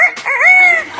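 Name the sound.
parrot imitating a rooster crow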